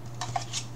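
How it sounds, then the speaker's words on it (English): A few floppy disks clatter lightly against each other in several quick, faint plastic clicks over a steady low hum, without any talking. "I have accumulated some floppy disks. You can hear them."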